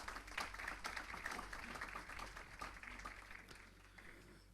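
Applause for council members during a special session at a municipal chamber in Brazil, faint and somewhat distant clapping from a small group over a low steady hum, continuing at a fairly even level.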